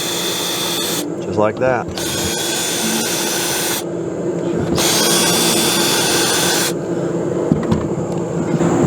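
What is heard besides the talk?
drill backing out screws on a roof vent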